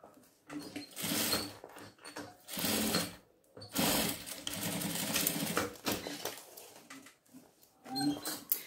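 A sewing machine stitches bias binding onto a children's carry case in bursts of rapid, steady mechanical whirring, close and fairly loud, with short pauses between runs.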